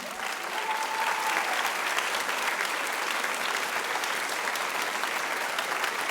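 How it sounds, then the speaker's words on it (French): Sustained applause from the audience at a high school eloquence contest in Montreuil, a dense continuous roll of clapping filling the hall, steady and unbroken for several seconds. "faites un fracas, un roulement d'applaudissements pour Clou"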